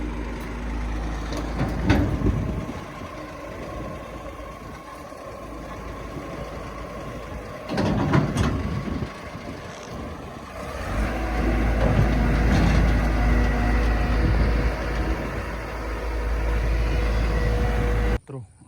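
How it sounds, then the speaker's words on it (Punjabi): A tractor engine runs steadily at a paddy harvest with a combine cutting wet rice in a Punjab field, a low continuous rumble that swells louder in the second half, with people talking over it. "ਚੱਕ ਹੋ ਗਿਆ ਟਰੈਕਟਰ"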